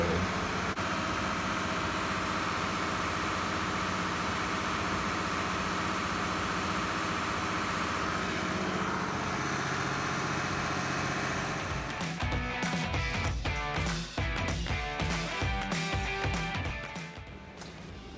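Cummins 8.3L diesel running in a boat engine room, a constant loud drone with hiss, turning choppier and more uneven in the final seconds.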